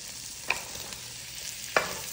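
Mushrooms being stirred in a frying pan, a soft continuous sizzle with two distinct utensil scrapes or clinks against the pan, close and fairly quiet.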